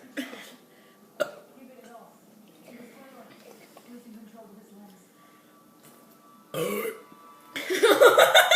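Someone burps after drinking Coca-Cola. Short gulping and throat sounds mix with low talk, then a longer, louder burp rumbles out near the end.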